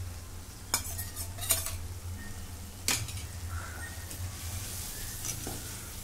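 Grated paneer being stirred into a green pea dish in a pan, with scattered utensil scrapes and clinks over a soft, steady sizzle, no voices.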